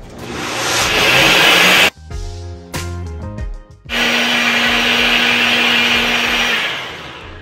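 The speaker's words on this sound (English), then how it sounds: "So I have the rice and the coconut milk here, 1 cup of coconut milk. I'm gonna grind it." A small electric grinder whirs loudly as it blends soaked rice with a cup of coconut milk, running in two long bursts separated by a brief stop-and-start pause.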